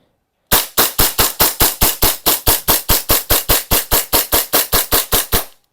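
An R615 Sand Viper gas airsoft pistol firing a rapid, evenly spaced string of about twenty loud, sharp cracks, close up, with no talking.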